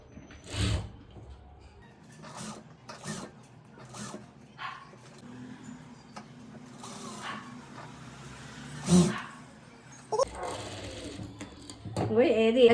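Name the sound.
sewing machine stitching blouse lining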